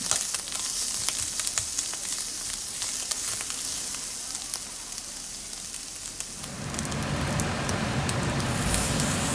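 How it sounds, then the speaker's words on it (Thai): Pork stir-fried without oil with chili and garlic for a holy basil dish sizzles steadily in a hot pan with occasional stirring clicks, and the hiss swells louder and fuller partway through, with no voices. "ใส่พริกลงไป พริกกับกระเทียมนะคะ ใส่แล้วก็คน"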